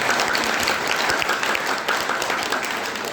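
Audience applause at an Arya Samaj Vedic bhajan gathering, following a devotional song: dense, steady clapping from a crowd, loud and continuous for the whole stretch.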